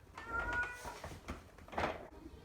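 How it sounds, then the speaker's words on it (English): A distressed cat left with a sitter meows indoors, several drawn-out plaintive cries close to the microphone, the last one louder and rising, with quiet gaps between. "I'm looking after someone's cat, and the owner is gone, and they're very upset, as you can maybe tell or hear."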